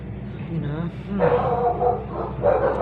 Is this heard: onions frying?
no